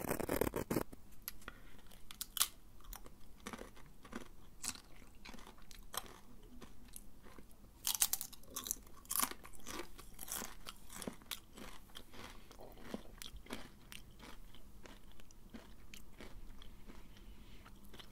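Close-up crunchy chewing of Pringles crisps, a steady run of crisp crackling bites and munches with no talking, louder crunches now and then.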